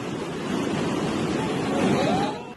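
Muddy floodwater from the overflowing Yamuna rushes through Dehradun after heavy rain, carrying vehicles along, a loud, continuous broadband roar that holds steady and then drops off abruptly at the end.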